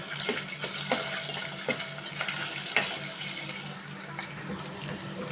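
Meal maker soya chunks fry in hot oil with amaranth greens, a busy close sizzle broken by frequent stirring scrapes and clatters of a spoon in the pan.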